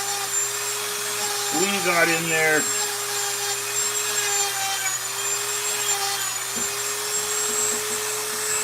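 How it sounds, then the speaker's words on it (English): A rotary tool fitted with a Kutzall fine detail burr grinds into wood while carving a gnome-home light piece, giving a steady close high whine that runs throughout, briefly overlapped by a voice. "All with the help of the old Kutzall fine detail Burr kit."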